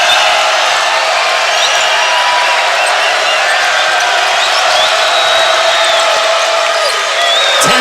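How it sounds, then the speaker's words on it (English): Loud, sustained roar of a basketball crowd cheering at the Stan Sheriff Center during a LA Tech vs Hawaii game, dense and continuous with whoops and shouts throughout. "the Stan Sheriff Center crowd getting into high volume mode"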